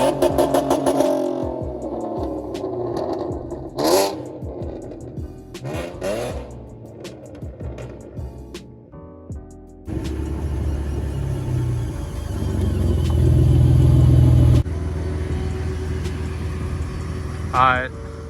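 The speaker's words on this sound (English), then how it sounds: "I'm gonna do a drive-by and rev, and then I'm gonna just give y'all a rev video." A V6 Ford Mustang with a loud aftermarket exhaust passes by and revs, the engine note swelling into a heavy, sustained roar in the latter half after lighter traffic and voices early on.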